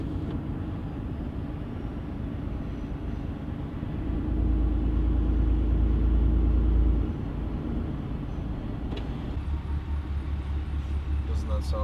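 A Cummins diesel pickup engine idles with a deep, continuous rumble that swells louder for a few seconds in the middle before settling back, with voices talking over it.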